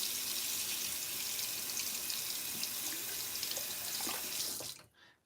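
A razor is rinsed under a running tap during a head shave, the steady hiss and splash of water filling the space at close range, then abruptly cut off near the end.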